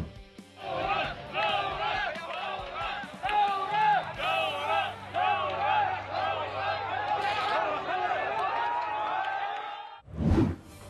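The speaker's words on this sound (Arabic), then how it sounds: "متظاهري البصرة وهم يرددون هتافات ثورية أمام مبنى مجلس المحافظة" A crowd of protesters in Basra chants revolutionary slogans in loud, rhythmic unison outside the provincial council building, the massed voices rising and falling in repeated bursts before a brief rush of noise at the end.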